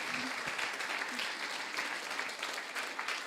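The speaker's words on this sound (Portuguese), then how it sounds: "Un fuerte, fuerte aplauso" A seminar audience gives a fairly quiet, even round of clapping that continues steadily for a few seconds with some faint voices underneath.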